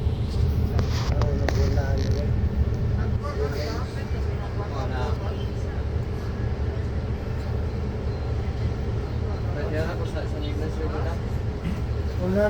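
Steady rumble of heavy road traffic along a Davao City highway, with engines droning continuously and close throughout, overlaid by conversation among people nearby.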